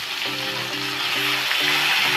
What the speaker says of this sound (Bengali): প্রথমে আমি নারকোলটা একটুখানি ভাজা ভাজা করে নেব।